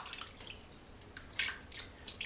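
A soaked shaving brush from a Van Der Hagen luxury shave set drips water, a few faint close drops and small splashes spaced unevenly over a quiet background.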